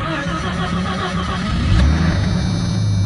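A 1989 Jeep Cherokee engine, with its mechanical fan removed, idles and revs up close by, a rough steady rumble that swells midway through the short stretch.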